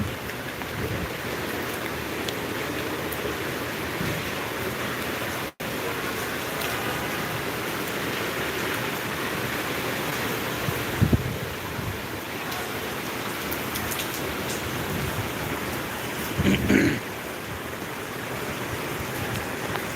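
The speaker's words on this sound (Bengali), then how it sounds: "যেমন বৃষ্টি তেমন ঝড় তেমনই ভয়াবহ অবস্থা" Heavy rain during a storm in Dhaka, a dense, steady hiss of rainfall pouring outdoors for the full stretch, broken by a few louder gusts and splashes, with no talk.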